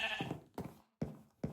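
A sheep in the video game Minecraft bleats several times in short separate calls, clear and close.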